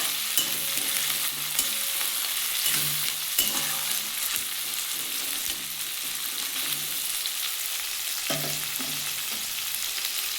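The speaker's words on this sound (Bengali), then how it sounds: "পেঁয়াজ আর টমেটোটা ভালো করে ভেজে নেবো" Onions and tomatoes fry in a pan of oil for a Bengali bata fish curry, giving a steady, close, loud sizzle with occasional soft clinks and scrapes of a stirring spoon throughout.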